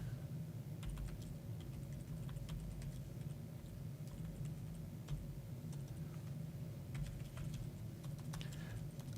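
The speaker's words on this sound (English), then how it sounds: "I'm not used to typing emails while I'm live" Quiet, rapid clicking of keys on a computer keyboard, irregular taps over a low steady background hum.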